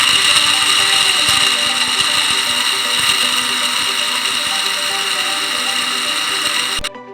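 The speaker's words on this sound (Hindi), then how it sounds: "इसे पल्स के थ्रू मैं कर रही हूँ क्योंकि मशीन को बाज़ औक़ात ज़्यादा देर तक चलाएं तो हीट अप भी हो जाती है ना" An electric grinder whirs continuously while pulse-grinding chaat masala spices, a loud, steady mechanical hum with a faint rattle that runs for about seven seconds and then cuts off abruptly at the end.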